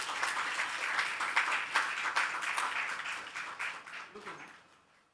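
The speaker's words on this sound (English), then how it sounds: "let us all give a huge round of applause to Ms. Nasreen ma'am" An audience at a G20 interfaith forum breakout session on women empowerment in Pune gives a round of applause, lively dense clapping that tapers off toward the end, with some voices mixed in.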